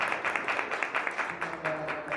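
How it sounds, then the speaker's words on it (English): An audience in a school hall applauds, a brief, moderate patter of clapping lasting a couple of seconds. "Round of applause, round of applause."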